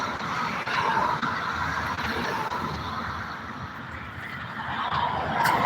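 Street traffic rumbles past nearby, a continuous roar of passing vehicles that swells and fades, with a faint horn-like honk.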